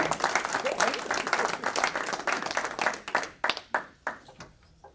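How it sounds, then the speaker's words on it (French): Audience at a francophone cultural conference in New York breaks into dense applause that thins out into a few separate, louder claps before dying away. "Par conséquent, je pense qu'on peut l'applaudir."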